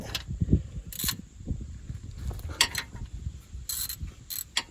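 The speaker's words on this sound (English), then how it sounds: "Let's take the ratchet." Ratchet loosening a front motor mount bolt on a Honda Element with a manual five-speed, several quick clicking bursts at irregular intervals over low handling clatter, close and moderately loud.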